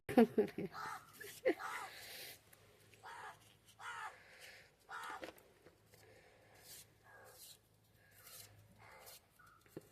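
A crow caws in short bursts, sometimes near and sometimes farther off, in a home kitchen setting while sambar without dal is being made; someone speaks at times between the calls.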